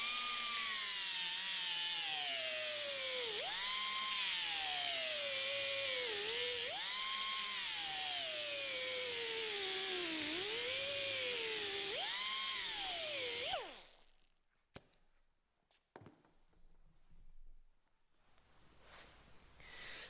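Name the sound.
grinding down the peened end of a bolt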